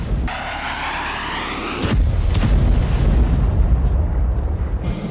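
A heavy bomb blast erupts with a sudden deep boom, then a long, loud rumbling roar of debris and low-frequency thunder that fills the rest of the moment, with no voices.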